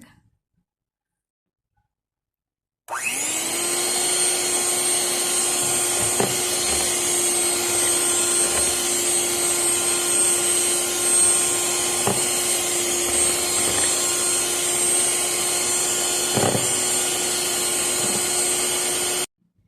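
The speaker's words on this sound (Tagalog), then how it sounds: "Blender ulit natin." After a few seconds of silence a blender motor whirs on and runs steadily at a high, even pitch, with faint clunks now and then.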